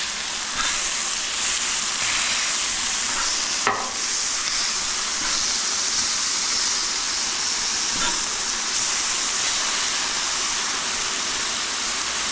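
Smash burger patties sizzle on a hot griddle just after flipping, a loud, steady hiss of frying fat that fills the clip, with a sharp scrape or clank near the start and another faint knock later.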